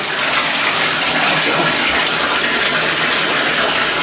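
Water pours steadily and loudly from a newly installed gold-plated shower faucet with a shut-off valve, a dense, unbroken hiss and spray that continues throughout without pause.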